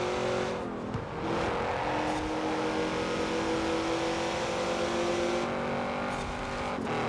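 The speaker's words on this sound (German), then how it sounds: "Der M4, der ist einfach viel zu laut hier im Spiel." A BMW M4 engine roars steadily in the Forza Horizon 4 racing game, a loud continuous drone with gear-like pitch shifts and brief dips.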